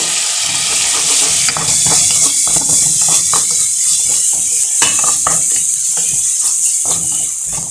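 Chicken frying with soy sauce in a hot pan, a loud steady sizzle with the scrape and clack of a utensil stirring against the pan throughout.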